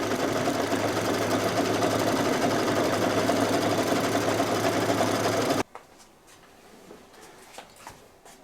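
An embroidery machine stitches the background quilting of a Halloween placemat owl block, a loud, steady mechanical whir that runs continuously for over five seconds, then stops abruptly, leaving faint handling sounds.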